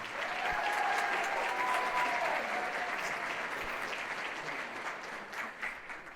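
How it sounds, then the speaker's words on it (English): Steady applause from a holiday jazz band concert audience, clapping continuously for several seconds before gradually thinning out toward the end. "So a round of applause for those two guys."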